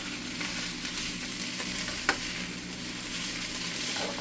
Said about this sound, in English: Got to make sure you're stirring in the sauce to everything